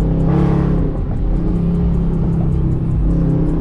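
A Dodge Charger R/T on the road gives a loud, steady low engine rumble with a whirring drone and a slight swell early on.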